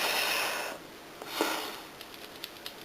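Someone blows on false-eyelash glue to dry it, a close, breathy rush of air lasting under a second, followed by a quieter puff and a few light ticks.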